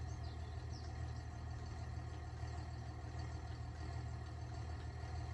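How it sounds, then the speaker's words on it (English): A tractor engine runs in a farming simulator video game, a steady low drone with a constant hum that holds evenly throughout, moderately faint and with no talking. "let's get into my tractor real quick"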